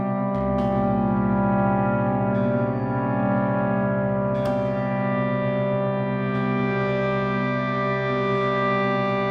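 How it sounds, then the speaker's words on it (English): A baritone guitar preset from Sonora Cinematic for SoundBox, run through a reverse effect, sustains a dense, droning chord with a few sharp swelling accents early on, held steadily for over nine seconds with no voices. "So we got some reverse stuff going on in this one."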